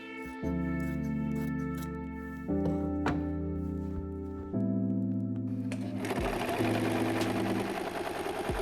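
Sewing machine stitching a remnant of fabric into a dress, running in loud close bursts at a steady rapid pace, with short pauses and slight speed changes between runs.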